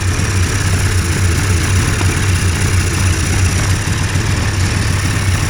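Hurricane hovercraft engine running steadily at 1000 RPM, a loud, constant low rumble that holds throughout with no talk over it.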